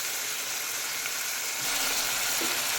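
Whole pulao spices such as cardamom and bay leaf frying in oil, giving a fairly loud, even sizzling hiss with faint crackles throughout.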